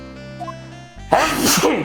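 A single loud, sudden sneeze bursts out near the end of the clip after a stretch of background music, close and forceful.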